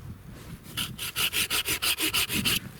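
A hand pruning saw cuts through a tree branch in a garden, making about ten rhythmic rasping strokes that start after a short pause and sound close and fairly loud, with no talk over them.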